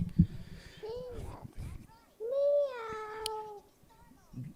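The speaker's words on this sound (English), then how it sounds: "Those are like robot kitty cats." Robot kitty cats let out several short electronic meows and chirps, spaced apart and fairly close, one longer tone in the middle.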